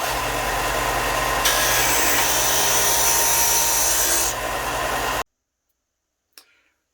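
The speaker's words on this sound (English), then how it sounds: "so you can just press on the disc sander or down on the belt just to narrow" A disc sander runs loud and steady with a broadband rasping hum as a plywood ring is pressed against it for about five seconds, then the noise cuts off abruptly, followed by silence and one small knock.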